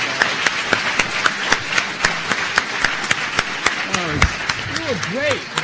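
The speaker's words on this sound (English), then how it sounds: "I would just quickly like for us all to have a round of applause for Jim," Applause from an audience at a foreign-policy panel event, a steady patter of many hands with crisp individual claps standing out, while voices speak over the final seconds.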